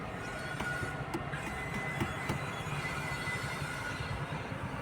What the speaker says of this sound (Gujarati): ટ્રેન એટલે ટ્રેન જાય.